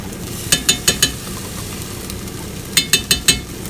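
Tomato paste and grated carrot being stirred in a frying pan, with a steady low sizzle running underneath. Two quick bursts of four scraping strokes each stand out close by, and no one is talking.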